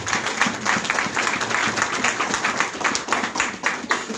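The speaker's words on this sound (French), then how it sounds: "Nous applaudissons famille ça." A church congregation claps in a dense, steady patter that holds at the same level from start to finish, with a faint murmur of voices underneath.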